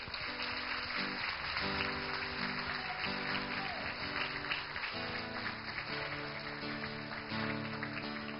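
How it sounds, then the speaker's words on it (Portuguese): Congregation applauding during a church service, steady clapping spread through the room beneath music and sustained tones, fairly quiet and continuous. "pode aplaudir o Senhor"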